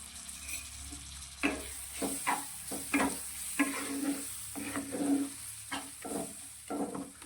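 Chopped tomato salted and frying in a pan sizzles quietly under repeated stirring, with a series of short scraping strokes in an uneven rhythm, close and fairly soft.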